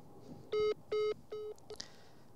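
A telephone ringback tone on an unanswered call repeats as three evenly spaced electronic beeps, each about a fifth of a second long, followed by a short click. The sound is clear and close over quiet background hiss, with no talking.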